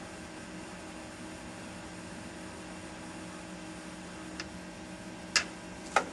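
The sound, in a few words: Waters 717 plus HPLC autosampler carousel spinning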